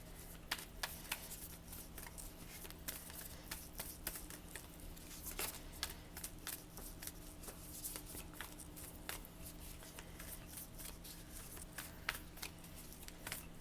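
Faint, rapid riffle and tap of animal oracle cards being shuffled by hand, steady small clicks spread through a quiet indoor room.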